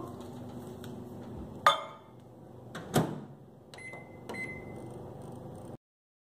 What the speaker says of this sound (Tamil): இதை ஒரு மூணு நிமிஷம் மைக்ரோ வைக்கணும்